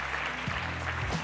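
A crowd at an education awards ceremony claps in a brief, dense patter, with a tonal sound running underneath.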